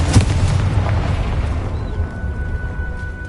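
A Confringo fire spell from Hogwarts Legacy bursts in a loud, deep boom with a crackling blast that rumbles on and fades over a few seconds.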